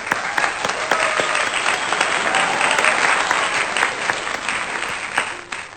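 Steady applause from a crowd, dense and continuous clapping that holds level throughout and then tapers slightly at the end.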